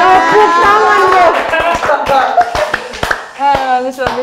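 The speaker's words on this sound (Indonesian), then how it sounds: "tepuk tangan deh" A small group claps by hand indoors in a family living room, a few sharp scattered claps standing out under lively overlapping talk and laughter.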